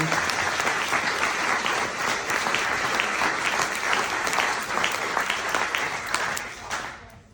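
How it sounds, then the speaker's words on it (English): A meeting-hall audience at a mid-January Riversiders club night gives a full round of applause, dense and steady for several seconds before thinning out at the very end. "let's just give them another round of applause"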